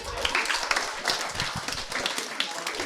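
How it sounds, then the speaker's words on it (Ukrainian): An audience at an improv comedy show claps in a busy, uneven burst, individual hand claps audible, with voices talking over the applause. "Дайте оплески Жені"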